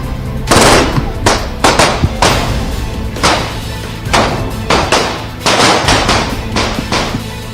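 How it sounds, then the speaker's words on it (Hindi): Attackers fire on Atiq Ahmed in rapid, loud gunshot bursts, with sharp clustered cracks and brief gaps recurring over several seconds. "हमलावरों ने अतीक अहमद पर दनादन गोलियां दागनी शुरू कर दी"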